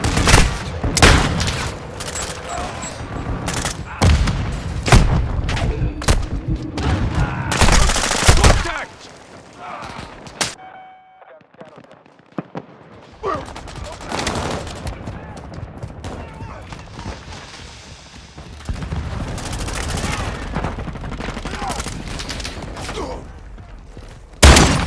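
Bursts of automatic gunfire in Call of Duty: Modern Warfare II, loud volleys and single shots coming in clusters, dropping out for a quiet stretch midway before resuming, with voices speaking over parts of it.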